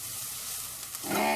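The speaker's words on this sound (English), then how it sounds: "Then I'm going to add this mixture of coconut, green pepper, and garlic, and fry that for a little while." Coconut, green pepper and garlic mixture frying in a pan, a close, steady hiss of sizzling oil that swells louder toward the end as it is stirred.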